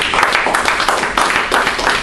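An audience at a communication talk claps in a brief, loud round of applause, with dense overlapping handclaps filling the room throughout.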